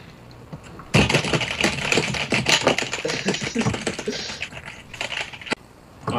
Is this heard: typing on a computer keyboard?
yes